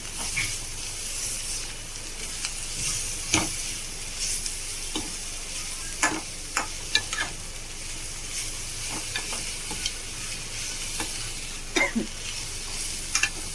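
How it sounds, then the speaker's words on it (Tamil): Jaggery is stirred into bitter gourd frying in a pan, a steady sizzle overlaid with scattered sharp scrapes and clicks of the spoon against the pan, continuing evenly with no voices. "இப்போ பார்த்தீங்கன்னா இது வெல்லத்தை ஆட் பண்ணுறேன். ஆட் பண்ணிட்டு மிக்ஸ் பண்ணி வச்சுக்கலாம்."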